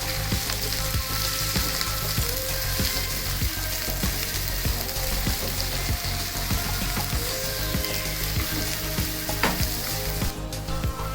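Prawns and eggplant frying in a pan with red chilies, a dense continuous sizzle punctuated by rhythmic scraping and clacking of a spatula stirring, close and loud without talk.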